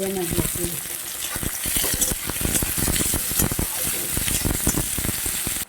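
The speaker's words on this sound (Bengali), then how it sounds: "পেঁয়াজ কুচি করে রেখেছি তা দিচ্ছি পেঁয়াজগুলা দিয়ে দিচ্ছি ভেজে" Chopped onions dropped into fully heated oil, frying with a loud, dense, crackling sizzle close by, stirred steadily, with a faint voice briefly at the start.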